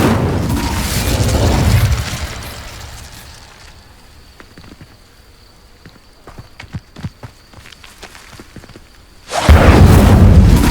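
A fire spell is cast in Hogwarts Legacy, bursting loudly at the start and again at the end around a quieter stretch of scattered thuds and steps.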